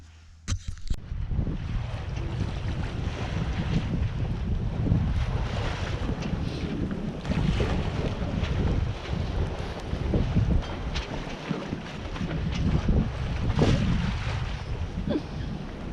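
A boat motors around Pine Island through ocean swells meeting chop from Queen Charlotte Strait. Heavy wind buffets the microphone, and hull slaps and rushing water make a constant loud roar.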